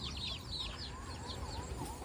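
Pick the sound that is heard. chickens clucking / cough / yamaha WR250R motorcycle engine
chickens clucking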